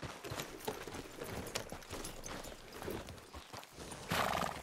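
Horse hooves clip-clop steadily in Red Dead Redemption 2, a rhythmic run of close, even hoofbeats over game ambience, with a louder burst near the end.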